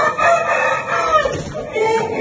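A champion rooster crows loudly and close by in one long, wavering call that fills the whole moment.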